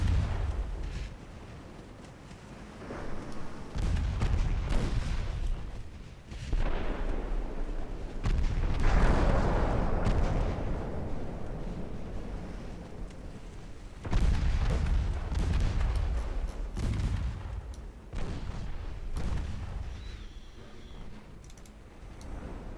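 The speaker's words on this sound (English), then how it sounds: "that must have been an 8-inch gun. High explosive shell." An 8-inch naval gun fires high explosive shells in a Korean War naval combat video game. Heavy booms and blasts repeat over about twenty seconds, rolling into one another with rumbling tails, and no one speaks.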